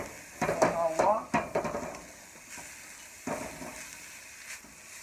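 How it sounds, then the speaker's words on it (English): Vegetables are sautéed in a pan for a lobster and shrimp stir fry, with a soft sizzle and a few stirring scrapes and clinks under a voice speaking near the start. "I'm going to saute that."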